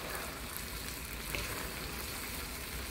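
Peanuts fry in hot oil with a faint, steady crackling sizzle. The sound is even and continuous throughout, with no voices.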